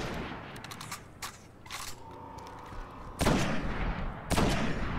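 Gunfire in the video game Destiny during a solo Nightfall strike, The Devil's Lair: scattered single shots at first, then two loud, dense bursts of rapid fire near the end, with no talking.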